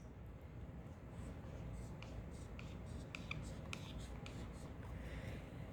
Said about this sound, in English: I'm going to draw a staircase.